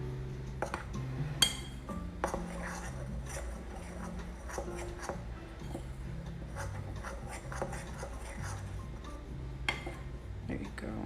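Banana bread batter stirred in a bowl, soft scraping and light clinks of a utensil against the bowl repeating steadily, faint beneath a person talking with background music.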